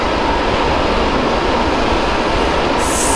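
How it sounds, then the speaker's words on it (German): A Berlin U-Bahn F79 subway train in the Microsoft Train Simulator game drives through a tunnel, giving a steady, loud rumble and rolling roar that continues unbroken from start to end, with no talking. "da fahren wir jetzt dann direkt durch den Tunnel durch"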